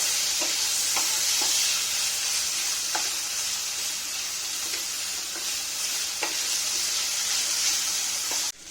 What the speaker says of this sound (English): going to just add some tomatoes for some flavor and color